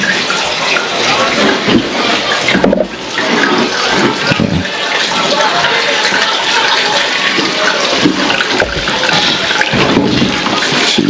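A household toilet in a house under remodeling flushes with a loud rushing surge, then the tank refills with a steady hiss of running water, no talking heard.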